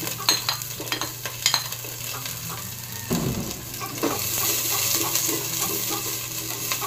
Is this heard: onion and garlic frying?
yes